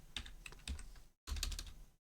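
Quick bursts of typing on a computer keyboard, close and clear, with two short runs of rapid key clicks separated by a brief silence.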